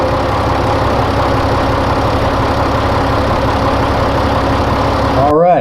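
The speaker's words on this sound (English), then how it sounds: "It's a sound file of a farm tractor." A farm tractor engine idles with a steady, loud low rumble throughout, ending with a brief shift in pitch as it revs or changes near the end.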